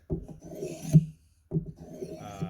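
Knife blade drawn across a Work Sharp sharpener, two rasping strokes separated by a brief pause, each a close, gritty scrape with no voice over it.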